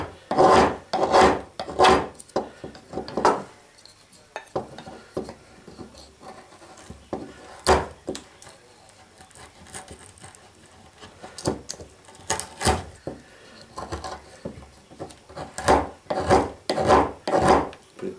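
An 8Kh6NFT steel knife blade, dulled after a natural-stone finish, scrapes across wood in bursts of rasping strokes, quick clusters separated by quieter pauses, close and fairly loud.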